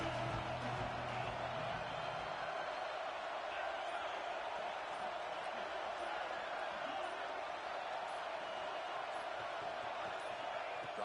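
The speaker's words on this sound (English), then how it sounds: "3rd down and the crowd really getting into it." Ole Miss football stadium crowd roaring on third down, a dense sustained wall of cheering noise that holds steady throughout, with a commentator talking over it.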